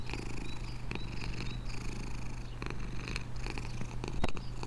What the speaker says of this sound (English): They put your guy's cat in this game.